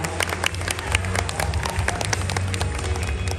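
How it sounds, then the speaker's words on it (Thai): Wedding guests applaud the bride and groom in a dense, steady patter of many hands clapping at once, with crowd murmur underneath. "ขอเสียงปรบมือดังๆให้กับคู่บ่าวสาวของเราอีกครั้งหนึ่งครับ"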